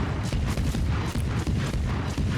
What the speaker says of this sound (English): it's time to shoot up the Patry that's running away from the centre